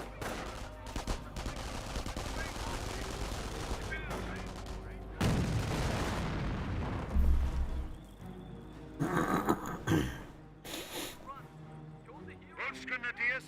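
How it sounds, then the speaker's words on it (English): Gunfire and artillery from a Company of Heroes match, heard as bursts of shots and heavier blasts that swell through the middle and again near the end, running under steady commentary throughout. "Incoming gunfire."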